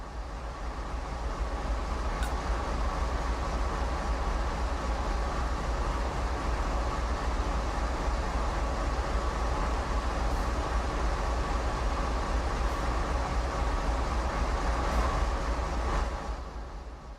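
A General Electric AC4400CW diesel locomotive in a train simulator game, its 4,400-horsepower engine giving a steady, loud rumble with broadband roar that holds constant throughout, with a few faint metallic clicks and no talking.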